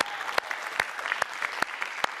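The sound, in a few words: audience applause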